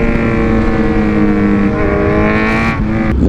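Kawasaki Z1000R motorcycle riding through city streets, its engine droning loud and steady with a strong harmonic hum. Near the end the pitch dips briefly as the rider shifts.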